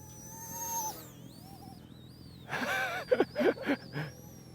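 An RC ERA EC-135 scale micro helicopter in flight gives off a thin, high-pitched tail rotor whine that glides up and down in pitch. It stays fairly faint, and a few short, voice-like bursts follow near the end.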